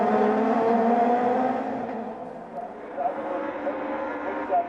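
A small BMW touring car in a 1997 STW race drones past on the circuit, its engine note sliding lower as it goes by, while a commentator talks over it.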